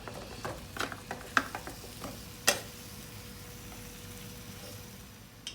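Pork ribs and sliced pork sit frying in rendered pork fat in a pan, giving a soft continuous sizzle broken by a few sharp clinks and scrapes of a utensil, fairly quiet and close.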